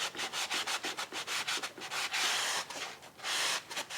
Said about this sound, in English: I'm going to use a soft sanding block just to go around the edges